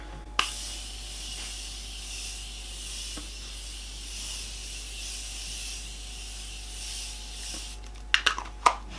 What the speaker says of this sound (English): Let's do my Morphe spray.